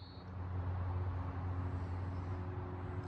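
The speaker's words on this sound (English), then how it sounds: "If it wasn't for the motor sounds of the cars going by" Cars going by on a road near a coastal river, heard as a low, steady motor rumble and engine hum that swells slightly and holds, fairly faint, with no talking.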